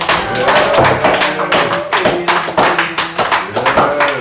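A church congregation claps in a steady rhythmic beat at an Easter communion service, loud and close, with voices faintly underneath.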